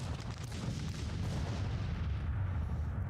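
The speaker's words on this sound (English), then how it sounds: "And our artillery is just gonna keep shooting." Civil War artillery firing in the strategy game Grand Tactician, a dense continuous rumble of distant cannon booms blending into one another at steady loudness, with no talking.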